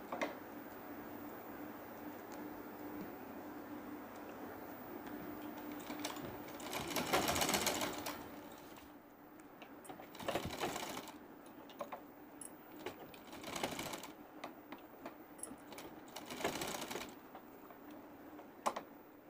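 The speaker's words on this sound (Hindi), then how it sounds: "ऐसे रख रख के इस पर सिलाई लगा के हमें फ्रिल को तैयार कर लेना है।" A sewing machine stitches a net fabric frill, running in soft, faint bursts of rapid mechanical clatter with short pauses between runs as the fabric is repositioned, heard alone without talk.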